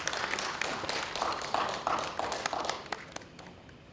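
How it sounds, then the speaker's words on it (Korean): Audience at a Korean presentation gives the presenter a round of applause, a steady patter of many hands that fades out toward the end, heard from a distance and fairly quiet. "큰 박수 부탁드리겠습니다."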